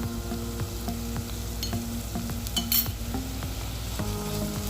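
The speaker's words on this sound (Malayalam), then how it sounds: "ഇതെല്ലാം കൂടി നന്നായിട്ടൊന്ന് വഴറ്റാം." Ginger, garlic and green chilli sauté in a pan with a constant close sizzle, punctuated by repeated sharp scrapes and taps of a stirring spoon against the pan, no voices.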